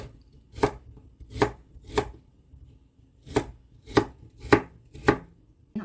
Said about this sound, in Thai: หั่นชิ้นพอดีคำอะค่ะ แล้วแต่คนชอบ